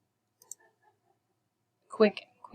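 A couple of soft, quick computer mouse clicks sound on the Undo command in an Excel spreadsheet, isolated in near silence, before a voice starts speaking.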